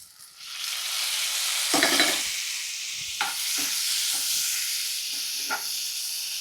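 Chopped tomato and green chilli sauté in hot oil for a homemade prawn gravy, a steady close sizzle with a loud hiss as the ingredients hit the pan and scattered scraping stirs of a spoon.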